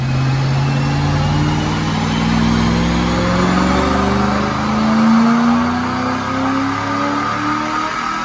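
A 2006 Mustang GT with a Paxton Novi 2200 supercharger runs a full dyno pull on a DynoJet, its engine note climbing steadily in pitch as it winds up toward about 6,500 RPM. The roar is loud, close and continuous, with no talking.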